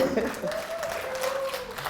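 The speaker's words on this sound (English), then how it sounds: "Give her a round of applause" A crowd at a Save Our Children rally gives a short burst of applause, diffuse and moderately loud, with a voice and a sustained tone running through it.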